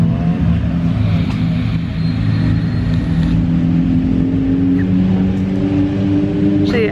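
Race cars run at the Road America circuit during races for several classes, a loud, steady engine drone with harmonic whine that carries on continuously, a little distant, without speech.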